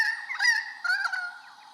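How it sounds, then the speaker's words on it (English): A Pied Currawong call plays back from an Australian birds app as two bursts of harmonic, warbling calls that sound thin and band-limited, with no talk. "Pied Currawong"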